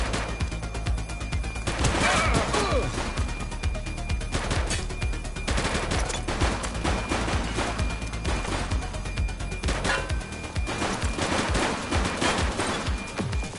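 Rapid bursts of automatic gunfire crackle throughout a police shootout in The Precinct, dense overlapping shots with louder flurries around the two- and ten-second marks, with no speech.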